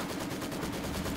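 Gunfire in the World War II strategy game Company of Heroes 2, a steady rattle of distant small-arms and machine-gun fire continuing throughout without a clear break.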